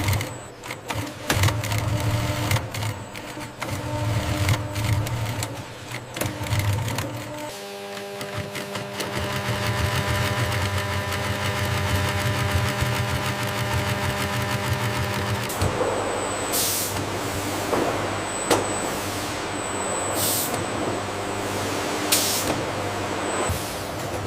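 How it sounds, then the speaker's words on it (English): Industrial looms in a banana stem factory weave raw banana fibers into dense nets, with loud continuous mechanical clatter and hum that shifts in character twice, the last stretch adding sharp rhythmic ticks. "This is where the raw banana fibers are fed into the industrial looms."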